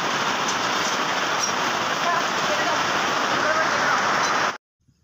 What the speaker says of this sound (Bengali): বাইরে আমাদের প্রচুর হারে বৃষ্টি এসছে এখন বন্ধুরা